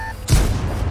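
A tank cannon round fired in a World War II tank battle video game, a Panther or M10 striking an enemy Hellcat, bursts out as one loud, deep boom with a heavy low rumble that lingers to the end.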